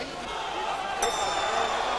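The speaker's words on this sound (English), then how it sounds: "The bell has gone." At a 1993 Eubank–Benn boxing match, a single bright clang of the ring bell cuts through the steady roar of the arena crowd, ringing on briefly as the noise swells.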